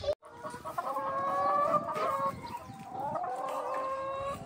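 Hens cluck and squawk nonstop inside a backyard chicken house in Australia, a busy overlapping chorus of close, loud calls with short pauses between bursts.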